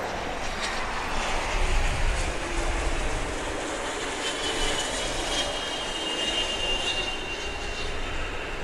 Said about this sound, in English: There's that Challenger arriving from New Jersey.